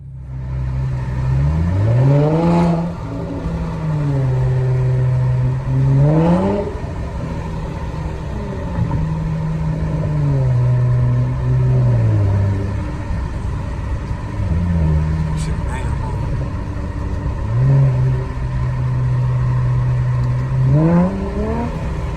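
A Dodge Challenger's engine revs and pulls hard at night, close up, in a series of rising surges roughly every four seconds with brief drops between them, loud and steady with no talking.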